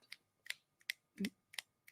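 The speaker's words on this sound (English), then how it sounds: "Finger snaps for that one." Several people snap their fingers at a live personal-finance talk event. Sharp, sparse snaps sound in an uneven rhythm, about six crisp clicks with short gaps between them, against an otherwise quiet room.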